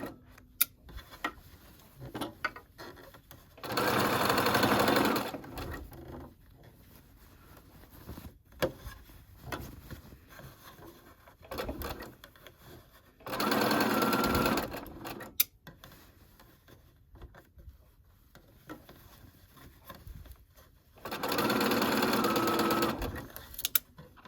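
A sewing machine stitches a wrap dress seam in three short whirring bursts of a few seconds each, separated by quiet handling of fabric.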